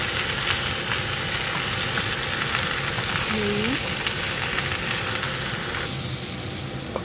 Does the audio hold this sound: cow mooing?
no